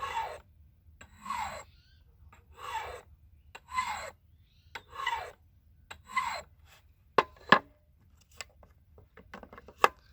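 Knife drawn through a sharpening device in a steady series of rasping passes, about one per second, then a few sharper scraping strokes on the flat side, close and clear with no talking.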